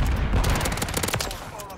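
Rapid, loud, close full-auto bursts from the WSP Swarm SMG in Call of Duty: Modern Warfare III, a dense unbroken rattle of shots throughout.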